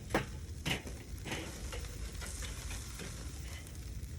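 Soft, steady sizzling of ribs in a hot pan, with a few light scrapes and clicks of utensils near the start, no voices.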